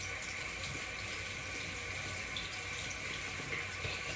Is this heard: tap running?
yes